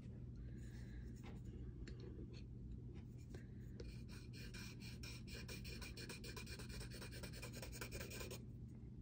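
Art pen drawing on a piece of paper, a soft, steady scratching and rasping of the nib across the sheet, close and quiet, with brief pauses between strokes.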